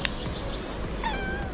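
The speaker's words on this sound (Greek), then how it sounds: "Έλα γατούλα!" A cat outdoors in Halkidiki, Greece gives a few short, close meows, one at the start and another about a second later, with faint background noise between them.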